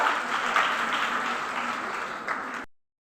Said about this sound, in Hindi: तालियों से बहुत बहुत स्वागत है डॉक्टर माला